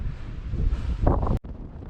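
Strong wind buffets the microphone on Fur Tor, a granite outcrop on Dartmoor, as a steady low roar that swells into a louder gust near the end, then briefly drops out before resuming.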